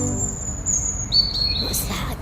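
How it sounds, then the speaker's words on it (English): A robin in a garden tree gives brief high, thin whistled notes, sliding tones heard close and clear over faint background noise. "It's a robin."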